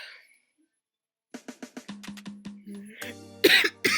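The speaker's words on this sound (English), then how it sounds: "That's why I'm coughing." A rapid burst of about eight short, dry coughs close to the microphone, followed by loud noisy shuffling and a brief voice.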